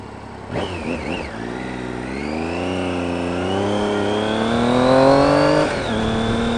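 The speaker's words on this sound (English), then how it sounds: "Ah, gotta love motorcycle." A motorcycle passes by on a street, its engine note rising steadily as it nears and grows loud, then cutting off abruptly as it moves on, with no talk over it.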